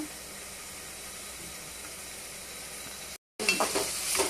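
Onions and green chilies fry in hot oil for an egg curry, giving a steady close sizzle that breaks off for a moment, then returns louder with sharper crackling.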